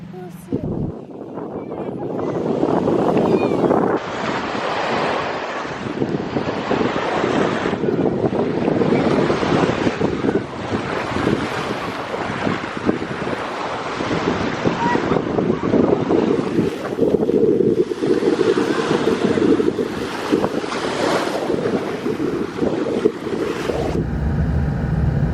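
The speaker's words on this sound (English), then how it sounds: "It's the ocean." Ocean waves at a Florida beach, a steady roar of surf heavily blended with strong wind buffeting the microphone, continuous and loud throughout with no clear individual breakers standing out.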